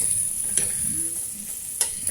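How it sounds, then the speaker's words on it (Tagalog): Onion and garlic sauté in a pan with a steady close sizzle, while a utensil stirs and scrapes in a couple of sharp strokes. "Yan, halo natin. Para mag-mix na. Sabay na mag-brown yung mga sis."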